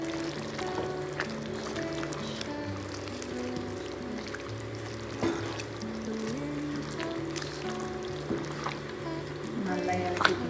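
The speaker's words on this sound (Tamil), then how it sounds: "ரைஸ் கொட்டியாச்சானி கொதிக்க ஆரம்பிச்சிருச்சுங்க." Rice boiling in a pot for mutton biryani gives a steady, continuous bubbling and simmering wash, with faint tonal hum running underneath throughout.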